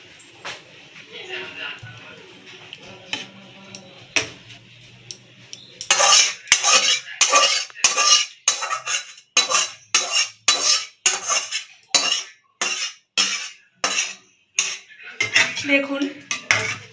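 Doi katla, a yogurt-based katla fish curry, stirred in a metal pan: after a quieter start with talking, a long run of loud, rhythmic clanking scrapes of a spatula on the pan, close by, with a voice talking between strokes.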